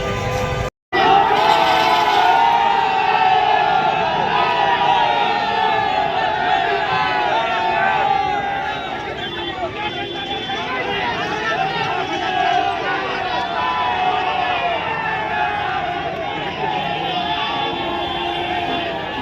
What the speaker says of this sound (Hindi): जोरदार हंगामा हो रहा है